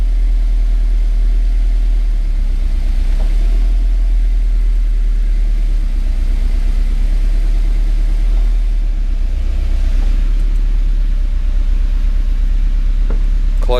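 Scion FR-S / Subaru BRZ engine idling steadily in neutral after a clutch install, a low constant rumble close by with no talk.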